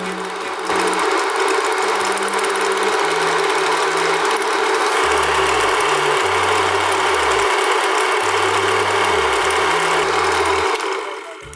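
An 8mm film projector mechanism cranked by hand gives a steady mechanical whir and clatter, loud and close, with shifting low-pitched tonal hums through most of the stretch and no talking.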